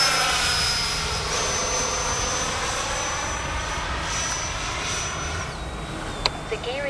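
A YAK-130 RC model jet flying at dawn, its turbine whine holding steady and then sliding in pitch as it passes at moderate distance, with a couple of brief knocks near the end.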